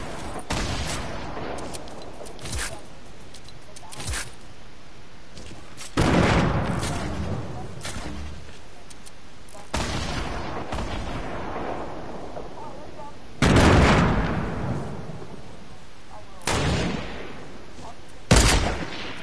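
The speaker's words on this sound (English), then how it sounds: "Yes, there's an assault rifle." Suppressed assault rifle fire in a video game comes in several separate bursts spaced a few seconds apart, each a sharp, loud crack with a short rumbling tail, with a voice talking in between.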